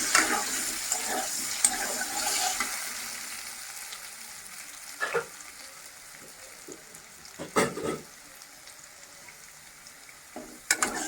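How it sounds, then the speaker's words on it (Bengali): Potatoes fry and sizzle in a pan, the steady sizzle broken by several sharp scraping clatters as they are stirred, close and fairly quiet, with no talk. "দেখো লাল লাল করে ভাজা হয়ে গেছে আমার"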